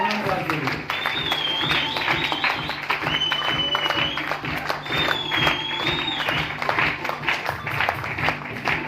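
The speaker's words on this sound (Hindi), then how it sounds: "जोरदार तालियां शफीउल रहमान साहब के लिए" An audience at a motivational talk claps continuously and loudly to welcome a speaker, with a few shrill whistles rising above the steady clapping throughout.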